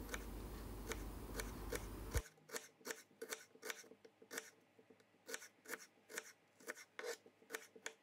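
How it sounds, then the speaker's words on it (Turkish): Knife slicing two dry onions into thin rings on a board, preceded by a brief burst of noise, then a quiet, fairly regular series of crisp cutting taps close up. "İki adet kuru soğanı piyazlık olacak şekilde doğrayalım."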